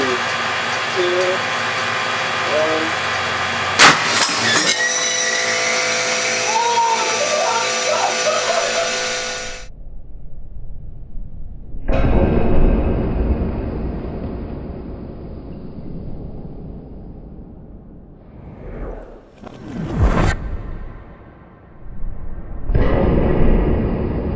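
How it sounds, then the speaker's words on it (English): A golf ball is fired at 500 mph into a golf driver, producing a sudden loud blast and rushing roar that fades into hissing air and mechanical noise, with people talking around it. "shoot a golf ball at 500 miles an hour against a driver"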